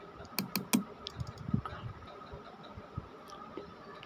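Computer mouse double-clicks while placing a buy order in MetaTrader 4 trading software, a few sharp close clicks early on followed by softer scattered taps over a low background hum.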